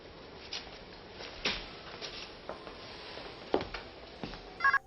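Telephone dialing from the 1991 film Cape Fear, a quiet series of soft button presses and faint tones scattered over low background hiss, ending with a short pair of sharper beeps.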